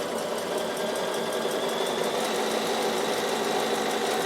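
A Bernina sewing machine running steadily at speed, sewing wide satin stitches with an even, rapid mechanical whir and fine rhythmic ticking, close and continuous with no talk.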